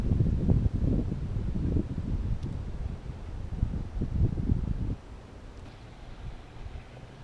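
Steady outdoor wind buffets the microphone during a fishing trip on the water, with a loud rumbling roar that gusts strongly before easing off to a lighter hiss near the end.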